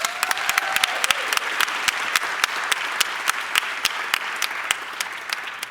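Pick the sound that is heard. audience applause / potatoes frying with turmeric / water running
audience applause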